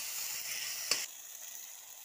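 Garlic-ginger paste fries in a pan for gobi manchurian, giving a steady, close sizzling hiss broken by one brief clatter, with no talk.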